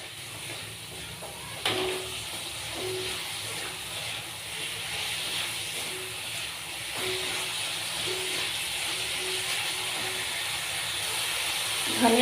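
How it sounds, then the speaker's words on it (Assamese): Minced chicken and potatoes fry in a pan with a steady, fairly loud hiss and sizzle throughout, a few faint clicks of stirring, and no talk. "আলুখিনিও একেলগে ভাজি দিম।"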